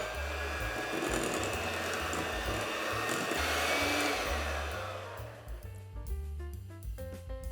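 A mixer beats pistachio cream into a no-churn vanilla ice cream base with a steady, loud motor whir that runs for about five seconds, then cuts out, leaving softer clinks and scraping in the bowl.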